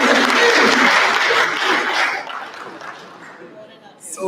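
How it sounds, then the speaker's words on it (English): Applause for a prize winner at a tourism product launch event, a loud round of clapping with some chuckles and chatter that fades after about two seconds, leaving quieter murmuring. "give the person a clap."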